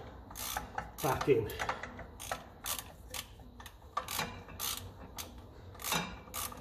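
Ratcheting and clicking of a wrench tightening bolts on the input shaft of a 1954 Ferguson TEF 20 diesel tractor, in short repeated bursts close by, with a brief spoken word over it.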